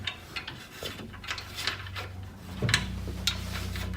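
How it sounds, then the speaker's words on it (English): Quiet plastic-on-metal sliding and clicking as an end cap is pushed back onto an SCT400g rail, with a few soft knocks and scrapes close up against a low steady hum. "put the end cap back on here as well. Just slide right back in there properly"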